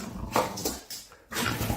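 A dog whimpers in short, thin whines spread across a brief stretch, fairly close and moderately loud, with no talking over it.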